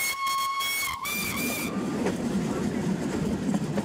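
A 90-year-old steam locomotive blows its whistle, a loud harmonic blast lasting under two seconds, followed by steady rumbling and clatter of the moving train.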